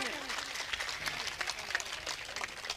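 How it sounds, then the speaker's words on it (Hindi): An audience at a Hindi poetry gathering claps in steady, continuous applause, moderately close and sustained for a few seconds with a faint voice underneath. "सम्मान में तालियां बजा लीजिए"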